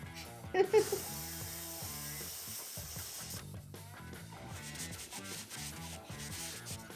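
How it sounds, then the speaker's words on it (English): Rhythmic scraping of sanding on a wooden cabinet repeats in short strokes, over a backdrop of music. "we do the sanding to even out anything uneven and smooth out anything unsmooth"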